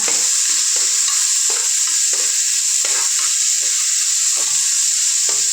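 Onions fry with ginger garlic paste and curry leaves in a pan, giving a loud, constant sizzle broken by repeated scraping strokes of a spoon stirring through the mixture.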